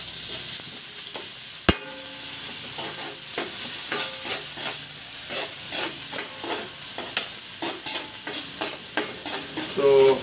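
Garlic, onion and ginger sautéing in plenty of oil in a pan, a continuous close sizzle broken by repeated scraping stirs, with a sharp clack early on.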